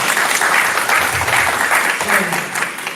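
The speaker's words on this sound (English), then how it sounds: "applause." A crowd at a city of South Fulton public event applauds newly introduced hosts, dense sustained clapping filling the room at a fairly loud level, with a few voices faintly underneath.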